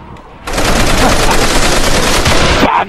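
Panzerschreck rocket launcher fire in World at War Zombies, heard as a loud, dense burst of rapid blasts that lasts a little over two seconds and then cuts off sharply.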